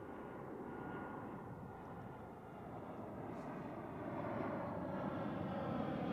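A jet airliner landing at Zurich Airport, a broad steady roar of engines heard from a distance outdoors, slowly swelling louder over several seconds.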